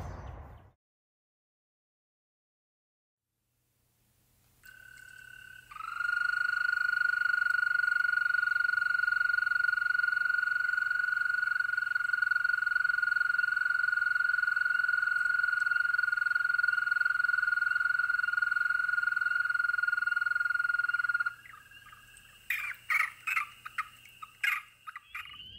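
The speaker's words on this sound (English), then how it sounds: "like the American toad" An American toad gives one long, steady trill that lasts about fifteen seconds and stands out alone against a quiet outdoor background, followed by a few brief clicks and rustles.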